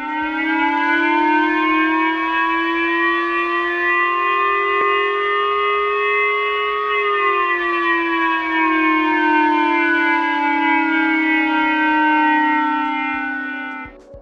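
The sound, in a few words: Japanese TV alert for North Korean missile overflight, 2022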